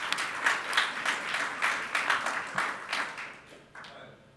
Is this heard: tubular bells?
no